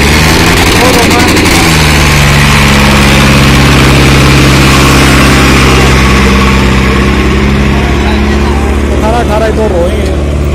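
Powertrac Euro 60 tractor diesel engine running loud and close, a steady low idle throb that swells and settles, with speech heard over it.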